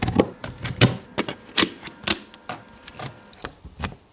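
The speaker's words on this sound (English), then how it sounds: "This allows you to twist the light in 20 different steps all the way around. 18 degrees for every click you turn." A corner bar light's head is twisted through its detent positions, giving a series of crisp, close mechanical clicks at an uneven pace, roughly a dozen in four seconds, with no talk.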